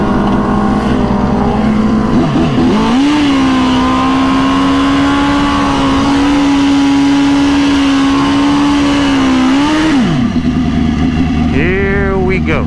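Turbocharged Suzuki GSX-R 1000 drag bike on a quarter-mile pass, a loud sustained high-revving engine roar that climbs, holds steady for several seconds, then drops off, with a voice heard faintly near the start.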